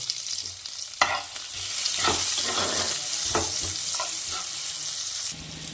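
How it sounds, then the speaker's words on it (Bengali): Chopped onion hits hot oil seasoned with cumin, bursting into a loud, close, hissing sizzle that swells and holds, broken by a few stirring scrapes, before cutting off abruptly near the end. "পেঁয়াজটা দিয়ে একটু লাল লাল করে পেঁয়াজটাকে ভালো করে ভেজে নেব"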